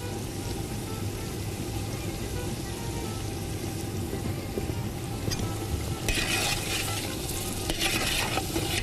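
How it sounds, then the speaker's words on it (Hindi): Onions frying in a pot sizzle continuously while being stirred, a steady hiss with occasional louder scraping bursts toward the end, close and alone. "प्याज डाली है ना, तो ज़रा सा हमें इसको मिक्स करना पड़ेगा अच्छी तरह से"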